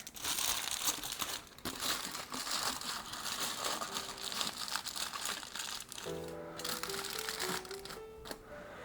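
Aluminum foil crinkles and crackles continuously at close range as it is crumpled and shaped by hand into a funnel, with a brief pause partway through.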